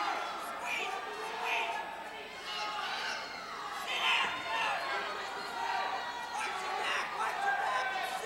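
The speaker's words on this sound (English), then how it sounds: "The crowd cheering some advice for Joe" A crowd in a school gym shouts and cheers during a high school wrestling match, voices rising and falling in a steady murmur, with a commentator speaking over them.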